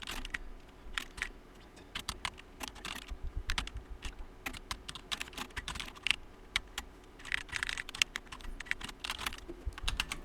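Code is typed on a computer keyboard in quick irregular bursts of close, crisp key clicks, with short pauses between runs and no voices.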